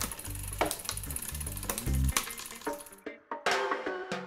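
Rear bicycle derailleur stepping up the cassette toward the largest cog, giving a series of close, crisp mechanical clicks and ratcheting ticks with brief chain rattle, loud and alone.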